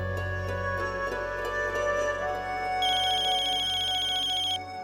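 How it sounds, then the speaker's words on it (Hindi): A telephone ringtone plays on an outgoing call in a Hindi TV drama scene, a steady repeating electronic ring pattern heard clearly and alone, with a brighter high-pitched tone joining partway before stopping near the end. "पायल को फोन करूं?"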